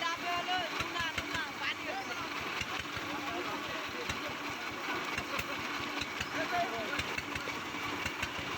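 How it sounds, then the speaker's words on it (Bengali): A river trawler's engine runs while the boat is turned, a quiet, steady throbbing drone with voices faintly talking over it. "এখানে আমি হচ্ছে ট্রলারটা ঘুরাচ্ছি"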